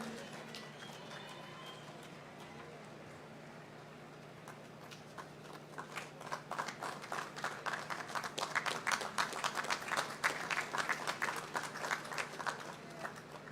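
An outdoor crowd at an independence parade award ceremony claps, starting scattered and swelling into steady applause that holds to the end, under faint background hum.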